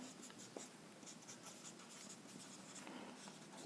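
Marker or chalk writing on a classroom board, with steady scratchy strokes and short taps, fairly close and alone without any talk.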